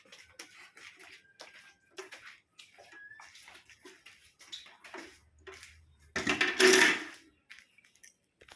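Dishes, pots and pans washed by hand at a home kitchen sink, with intermittent water splashing and light clinks of metal and crockery, swelling into a louder gush of running water near the end.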